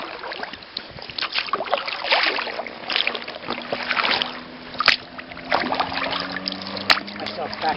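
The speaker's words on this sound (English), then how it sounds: "then start paddling the other side" A kayak is paddled on open water with rhythmic strokes, each one a close splash and drip repeating every second or so. A few sharper splashes stand out along the way.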